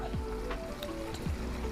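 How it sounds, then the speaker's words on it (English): Small backyard creek running full after heavy rain, a steady soft gurgle and trickle throughout, with a faint low mechanical hum mixed in. "flowing real good because we just had a bunch of rain, but this is our little creek behind our property here"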